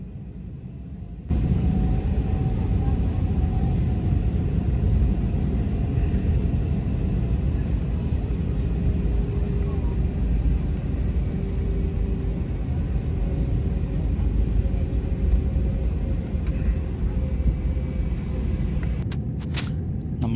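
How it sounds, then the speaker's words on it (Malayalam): A passenger jet taking off from Abu Dhabi, heard from inside the cabin as a loud steady roaring rumble that surges in abruptly and holds for the rest of the run. "നമ്മുടെ അബുദാബിയിൽ നിന്നുള്ള ഫ്ലൈറ്റ് ടേക്ക് ഓഫ് ചെയ്യാൻ പോവുകയാണ്"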